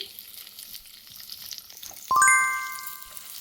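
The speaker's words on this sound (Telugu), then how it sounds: "వేసి ఉల్లిపాయలు కొంచెం వేగాలి, బ్రౌన్ కలర్ వచ్చే వరకు కొంచెం వేయించుకుందాము" Chopped onions fry in a pan with a soft, low sizzle and light stirring. Partway through, a bright metallic chime rings out and slowly fades.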